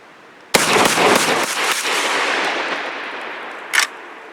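Lynx 12 semi-automatic shotgun firing full-velocity slugs: one sharp, loud blast with a long decaying echo, then a smaller sharp report a few seconds later.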